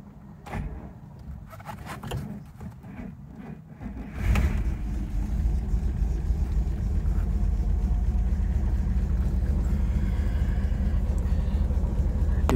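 A 1962 Bentley S2 Continental Flying Spur with H.J. Mulliner coachwork makes a cold start: a few faint clicks and rustles, then the engine catches and settles into a loud, steady, rumbling idle close by.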